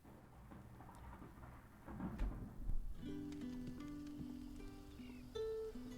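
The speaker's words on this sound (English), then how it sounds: "It's like a ripping thunder, that one I just heard." Rumbling, ripping thunder with rain from the video game Final Fantasy XVI, a low roll building and peaking near the middle before fading under sustained game music tones.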